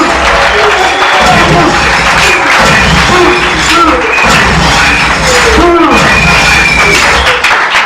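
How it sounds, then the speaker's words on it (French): Audience applauding loudly and continuously, a dense wash of claps with thumps, crowd noise and talk mixed in. "Est-ce qu'on peut applaudir?"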